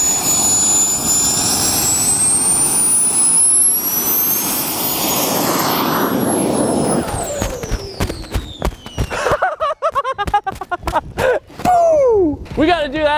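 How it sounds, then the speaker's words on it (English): A jet engine mounted on a homemade jet-powered ice sled roars outdoors at full power with a loud, steady whine for several seconds, then spools down into sputtering, popping bursts and a falling tone. "The good news is the jet has plenty of power."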